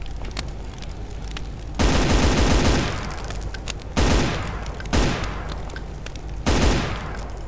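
Heavy gunfire in Brutal Doom Eternal, shooting at windows: four loud, booming bursts of rapid shots, each trailing off into a rumbling decay, with quieter gaps between them.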